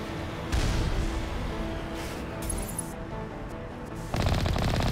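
Shotgun fire in Mass Effect during combat, heavy booming blasts at the start, midway and near the end, over a constant background rumble of battle noise.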